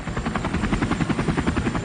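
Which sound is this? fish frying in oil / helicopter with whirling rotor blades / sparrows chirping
helicopter with whirling rotor blades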